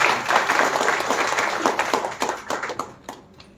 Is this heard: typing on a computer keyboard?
no